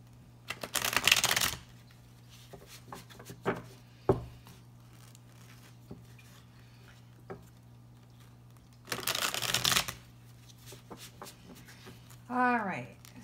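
Tarot cards being shuffled in two loud riffling bursts, with light taps and card handling between them and a short voiced sound at the end.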